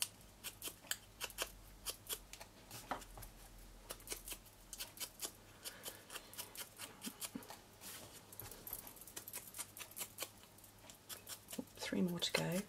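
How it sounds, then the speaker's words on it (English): A sponge dabbing ink onto the edges of paper bags makes a quick, faint series of soft pats and scrapes in close, steady rhythm, with a quiet voice talking at moments. "I'm going to sponge up the edges of these ones too"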